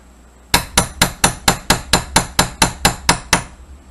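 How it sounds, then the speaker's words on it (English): Eleven sharp, evenly spaced metallic hammer taps ring out close and loud, a steel punch driving a roll pin home until just below flush. "Give it a couple love taps with the hammer."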